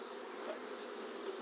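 Honey bees shaken off a honey frame beside a hive on a double screen bottom board, a dense continuous buzzing swarm close by with no pauses.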